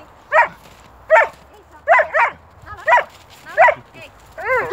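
A dog barks repeatedly in short, evenly spaced bursts at moderate loudness, some yelps rising in pitch, heard close by indoors in a home.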